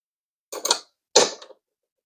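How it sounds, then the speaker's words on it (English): A socket wrench ratchets on the nuts of a TV wall mount in two quick, close bursts of clicking separated by a short pause. "So I'm using a socket."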